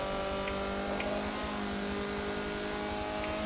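A race car engine in a racing video game drones steadily and loudly throughout, a sustained hum with no pauses, taking a circuit corner with gravel traps.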